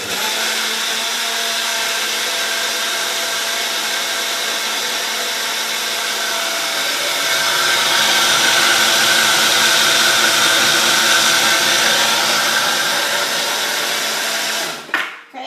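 A kitchen blender mixing protein pancake batter runs loud and steady for about fifteen seconds, its whir rising slightly partway through before cutting off with a brief clatter at the end.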